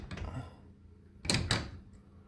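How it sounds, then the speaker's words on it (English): A garage door is opened by hand during a power outage, giving two sharp clattering bangs close together after some low rattling, near and moderately loud with no talking. "You can manually open your door"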